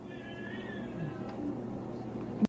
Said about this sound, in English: That's a cat being disturbed